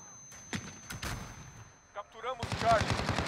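Bursts of rifle and automatic gunfire in a Call of Duty: Modern Warfare multiplayer match, a few scattered shots early and then a rapid, loud volley of repeated shots near the end, with brief game voice lines in between.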